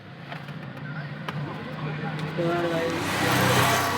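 An auto rickshaw ride in traffic, with a rumbling engine and road noise that grows louder toward the end and someone speaking briefly over it.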